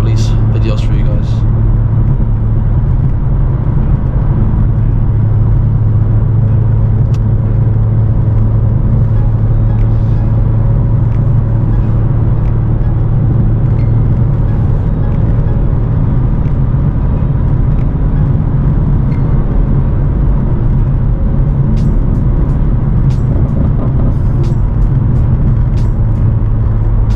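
A tuned 2024 G80 BMW M3 cruises at night, its engine and road rumble droning steadily and loudly throughout, with a person talking over the noise.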